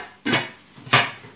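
A cooking pot is handled, giving two separate clattering knocks about two-thirds of a second apart, fairly close and moderately loud, with no talk.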